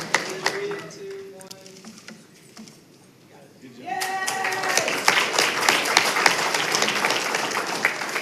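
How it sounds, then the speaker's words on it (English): Applause for students at a school board meeting swells after a few seconds of quieter room sound and talk, then continues as a dense, steady round of clapping to the end, with a few voices mixed in. "Let's give them another round of applause for their great efforts"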